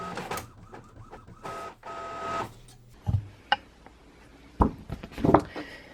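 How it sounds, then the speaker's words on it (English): An inkjet printer runs a full sheet of thin label stickers in color, with bursts of mechanical whirring, clicks and carriage shuttling separated by short quiet pauses, close by. "now I'm going to print that"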